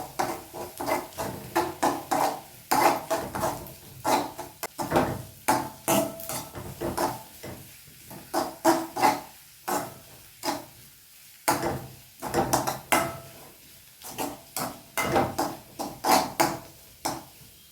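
Beans with egg and ground pepper stirred in a pan for a Kerala-style mezhukkupuratti, with repeated rhythmic spatula scrapes and taps against the pan, close and steady, with no talking.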